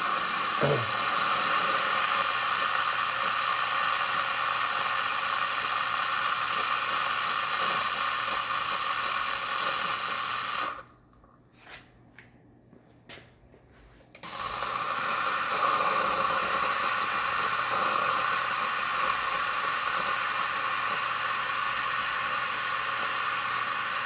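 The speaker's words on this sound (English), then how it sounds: "So we're getting a lot of steam here." A Quick Mill Monza espresso machine steam wand gives a long, steady, loud hiss of steam that cuts out abruptly for a few seconds, then resumes at full strength and continues.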